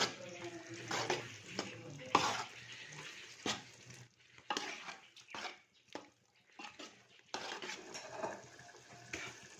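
Fried ghiya tori being stirred and mixed in a pan, a spoon scraping in repeated uneven strokes over a soft background sizzle, fairly close but quiet, with no talking.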